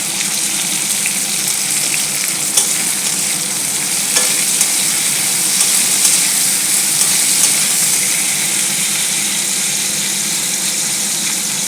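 Cauliflower florets fry loudly in a pan for a vegetable dal, giving a dense, constant hiss and crackle close up, with occasional stirring noises and no voices.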